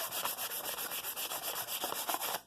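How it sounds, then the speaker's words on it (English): Steady back-and-forth rubbing of 150 grit sandpaper easing the corners of a wooden mallet, close and rhythmic, with quick regular strokes and no talk. "I got some 150 grit. Don't have to do a lot. Just want to ease those corners off."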